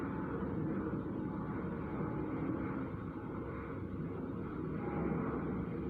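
Airplanes passing over a house, heard as a steady, continuous broadband roar with low rumble that holds level throughout, no voices present.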